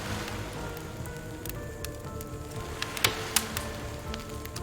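Warm rain falls steadily on a dark summer night, a soft, continuous patter with a few sharper drops standing out near the end, quiet and without speech.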